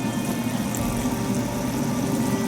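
About three quarters of a cup of water pours into a pot of Tanzanian fish curry, mchuzi wa samaki, a close, continuous gurgling rush heard alone.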